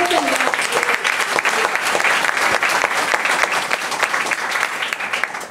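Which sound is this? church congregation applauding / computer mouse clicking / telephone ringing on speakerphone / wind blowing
church congregation applauding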